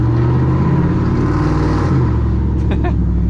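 A cammed 5.3 V8 truck engine on 35-inch tires idles and revs unevenly with a choppy, loping note, close by, with a brief higher whine near the end.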